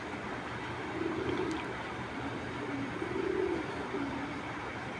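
Racing pigeons coo in low, soft rolling phrases, two clear bursts standing out over a steady background hum in a loft setting; no talking.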